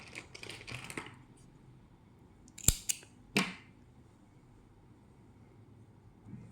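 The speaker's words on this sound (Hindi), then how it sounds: "अब हम यहाँ से धागा कट करेंगे।" Scissors cut crochet thread in a few quick, crisp snips clustered near the middle, after some soft rustling of the thread and work, all fairly quiet and close.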